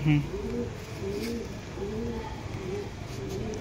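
Pakistani pigeons coo in a loft with repeated low, rounded calls at a steady rhythm, close by, over a soft murmur of background voices.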